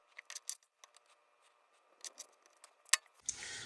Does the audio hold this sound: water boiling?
no